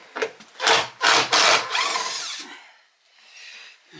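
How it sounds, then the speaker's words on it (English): Power drill boring pilot holes into wood for door hinges, several short loud whirring bursts with pauses, then a longer grinding run that fades to quiet. "I'll put pilot holes."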